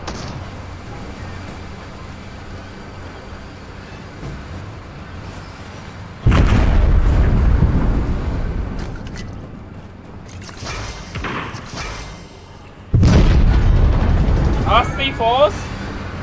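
Tank cannon fire and explosions in Fortnite, two heavy booming blasts several seconds apart, each with a long rumbling decay, over quieter game ambience.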